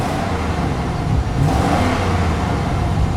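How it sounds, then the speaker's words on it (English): A 2011 GMC Sierra Denali 4X4 with 250,000 miles runs nearby, its engine giving a steady mid-range drone that swells slightly in a brief rev before settling back. "Revs up nicely, idles smoothly"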